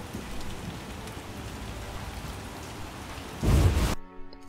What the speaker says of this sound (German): Es wird eine ganze Weile regnen.